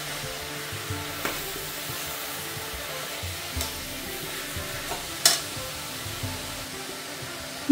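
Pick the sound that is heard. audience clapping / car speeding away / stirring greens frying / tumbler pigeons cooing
stirring greens frying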